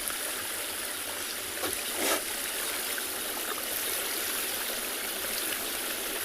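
Water streams steadily at a South African safari reserve at sunset, a continuous bright hiss and rush that holds at an even level, with a faint soft splash or two and no voices.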